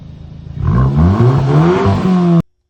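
A modified Audi A3 engine with a DSG gearbox revs up hard, climbing and falling through loud sustained harmonics with crackling pops between shifts, close and dominant before cutting off abruptly.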